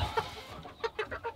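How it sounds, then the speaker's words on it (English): A young rooster clucks in a short series of soft, close calls, about five or six quick notes with no one talking over them. "He's still a young rooster."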